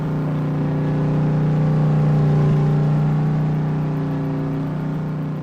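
A truck engine in Farming Simulator 22 drones at a steady mid pitch, swelling slightly louder then easing off, a smooth sustained hum with no talk over it.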